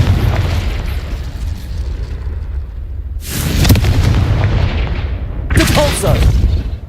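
Confringo, an explosive spell in Hogwarts Legacy, goes off in loud booming bursts, two sharp blasts rising out of a constant rumbling game soundscape, each trailing into a roaring decay.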